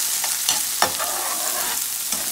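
Garlic, onion, green onion and pepper sizzle and fry in a pan while a metal spoon stirs them, giving scraping clinks over a steady hiss, close and fairly loud, with no talking.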